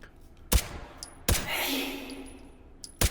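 A gun is fired in the VR shooting game H3VR. Three sharp, loud shots are spaced apart, and the second is followed by a sustained whooshing, crackling effect as the target reacts.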